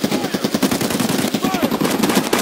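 Rapid automatic gunfire in the video game Escape from Tarkov, a loud, dense burst of continuous shots filling the whole stretch without pause.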